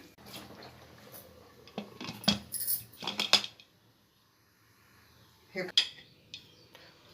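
A metal lid is fitted onto a pressure cooker pot holding soaked rice for green biryani, giving a few sharp metallic clanks and rattles separated by quiet pauses.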